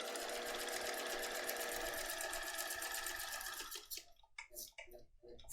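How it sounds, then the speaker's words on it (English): A sewing machine runs a basting stitch around the outer edges of fabric, a fast, steady mechanical chatter that continues for several seconds, then stops abruptly, followed by a few quieter clicks of the needle. "I'm turning it to a basting stitch. I'm going to go all around the outer edges."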